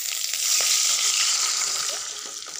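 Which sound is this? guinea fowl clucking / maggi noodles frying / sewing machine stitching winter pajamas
maggi noodles frying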